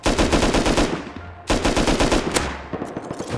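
Rapid automatic gunfire from bots in the video game Rust, loud bursts of machine-gun shots rattling on with a brief pause partway through.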